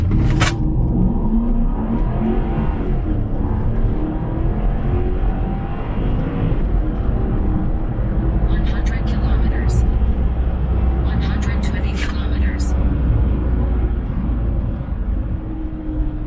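A Porsche Cayenne V8 running on petrol drives with a steady engine drone and road roar heard from inside the cabin, rising somewhat as it pulls, with people talking over it throughout.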